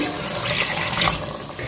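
Two glasses of water pour into a pot of browned meat and spices on medium flame for aloo gosht curry, a steady close splashing rush lasting under two seconds.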